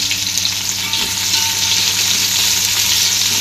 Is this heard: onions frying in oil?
yes